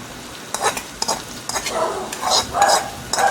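Squid tossed into a pan of softened onions and tomatoes, stirred with a utensil in several scraping, sizzling strokes that swell and fade at close range.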